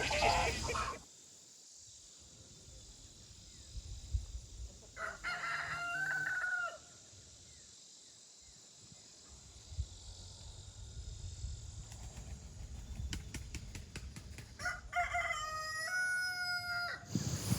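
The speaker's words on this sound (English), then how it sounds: "Sounds like the chickens are well at work laying eggs too." Chickens cluck in the background of a garden while eggs are being laid, with a rooster crowing loudly at the start and again near the end, plus scattered clucks and squawks in between, mostly alone with light outdoor noise.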